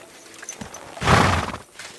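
Horse hooves clopping in the medieval video game Kingdom Come Deliverance 2, a short burst of close, loud hoofbeats swelling midway with faint thumps before and after.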